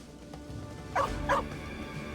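A dog in the video game Two Falls, set in the Canadian wilderness, gives two short barks close together over quiet ambient background, fairly faint overall.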